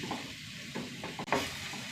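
Tomatoes sautéing in a pan give a steady close sizzle and crackle, with a few soft scraping strokes of stirring and one brief sharp clack near the end, moderately quiet and with no talking.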